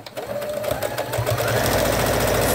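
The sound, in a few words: sewing machine stitching cloth wipes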